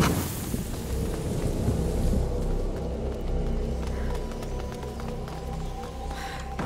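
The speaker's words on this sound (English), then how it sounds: "Lucas, Hugo, stay out of the rain." Steady rain with rumbling thunder in a dark medieval setting from the game A Plague Tale: Innocence, a dense continuous wash of rainfall with low rolling rumbles and scattered drips, moderately loud with no talking.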